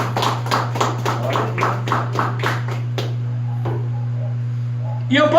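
A church congregation claps hands joyfully in a steady rhythmic beat for about three seconds, then falls quiet over a constant low hum, with a brief sound at the very end.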